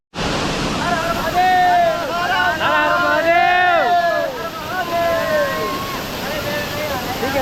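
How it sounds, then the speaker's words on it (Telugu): Steady broadband roar of water falling at Kaigal waterfalls, loud and constant throughout, with voices and chatter over it. "ఇక్కడ వాటర్ పడుతూ ఉంటుంది"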